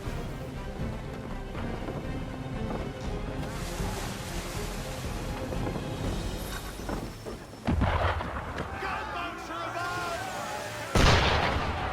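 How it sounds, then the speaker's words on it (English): A ship fires cannons in the video game Assassin's Creed 3 against ocean waves and wind, with booming blasts under a steady wash of water and game music. "Why is he shooting at us?"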